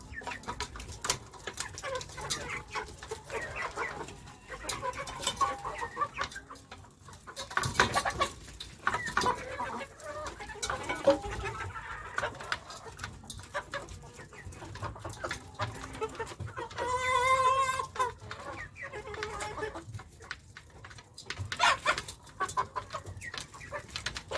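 Chickens cluck in a steady, scattered stream at moderate distance, with occasional sharper calls and quiet background noise.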